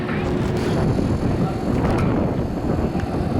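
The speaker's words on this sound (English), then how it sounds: "It's so windy." Strong wind buffets the microphone at Six Flags St. Louis amusement park during a holiday event, a loud continuous roar and rumble with gusts throughout, and faint voices blend into the noise.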